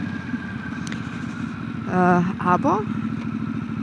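A Harley-Davidson Sportster S motorcycle being ridden, its engine a steady low rumbling drone that swells briefly, with someone talking over it.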